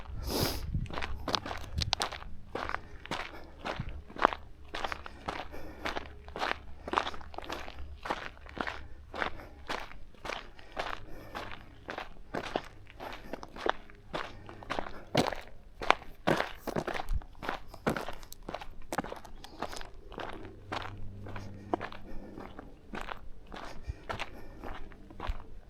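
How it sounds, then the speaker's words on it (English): Footsteps crunching over rocks on a hiking trail, a steady close walking rhythm of sharp individual steps continuing throughout, with a low rumble underneath and no talk. "You just wanted to hear my feet hitting the rocks?"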